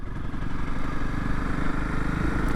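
A Honda CRF250L motorcycle engine drones steadily as it is ridden on a first spring ride, a close, continuous mid-pitched hum.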